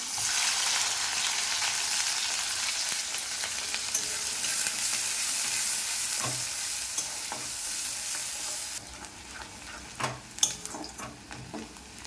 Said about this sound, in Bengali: তেল গরম হয়ে গেছে। এবার দিয়ে দেবো পেঁয়াজ।